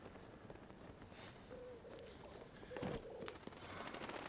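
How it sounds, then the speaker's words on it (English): Doves coo softly in the open world of Zelda: Tears of the Kingdom, a couple of faint low coos over quiet ambient background. "Hello, doves."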